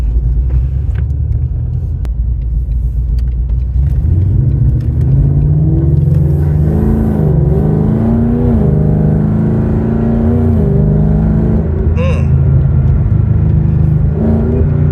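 A 2020 Ford Mustang GT with a 10-speed transmission accelerates hard through its gears, its loud engine rumble climbing in pitch and dropping back at each shift, heard from inside with no talk.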